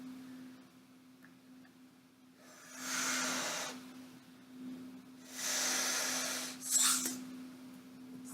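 Two or three strong, breathy blasts of air are pushed into a handheld lung-force measuring device, each lasting about a second or more, over a quiet room with a steady low hum.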